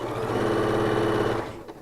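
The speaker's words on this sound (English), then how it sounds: "I'm going to sew along this seam" A sewing machine stitches along a seam in a steady, fast whirring run that stays close and even before slowing to a stop.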